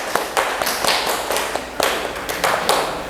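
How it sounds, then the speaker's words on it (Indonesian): Sparse classroom applause from a small group of students after a history discussion, a handful of sharp, uneven claps close by rather than a full ovation. "Beri tepuk tangan."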